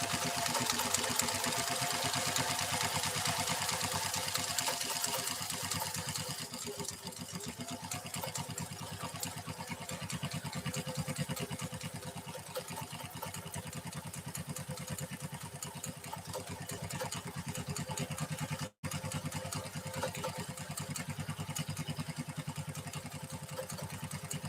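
A Pfaff 332 sewing machine stitches through genuine cowhide leather with a steady, close mechanical whir and rapid clatter that runs continuously, with a brief dropout near the end.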